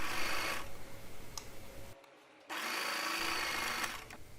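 A sewing machine stitches binding onto fabric in two steady runs of rapid mechanical whirring, close and fairly loud, split by a short pause.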